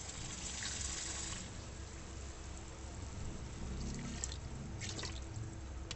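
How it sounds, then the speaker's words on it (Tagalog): Steady running water pours into a cooking pot for several seconds while making lomi, a continuous splashing gush with a few brief droplet sounds near the end. "Dagdagan natin ng konting tubig guys."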